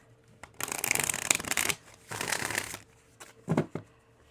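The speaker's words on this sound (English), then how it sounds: "Let's go ahead and grab some more energy cards" Energy cards being handled and shuffled at close range, in two long riffling bursts followed by a few short snaps and taps, with quiet gaps between.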